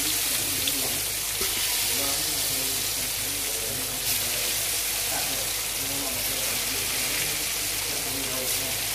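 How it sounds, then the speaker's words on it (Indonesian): Pieces of spiced tapioca coated in thick seasoning fry in hot oil, giving a steady, dense sizzle that runs close and constant throughout, with some faint background noise. "Nanti kita goreng dengan minyak yang panas ya."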